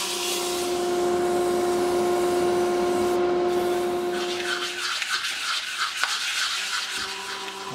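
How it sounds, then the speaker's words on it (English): Steady, close rubbing and whirring of sandpaper working through grits from 120 up to 800, with a constant hum underneath; the friction turns rougher and more textured partway through. "it's time to do a little sanding"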